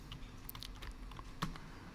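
Soft, quick keystrokes on a computer keyboard as a password is typed, a short irregular burst of clicks heard close but faint, with no talking.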